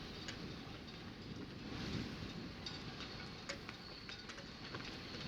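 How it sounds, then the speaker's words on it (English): Steady broadband rushing of wind before a thunderstorm over New York Harbor, fairly loud and continuous, with faint scattered clicks and seagull chirps on top. "Here comes the wind."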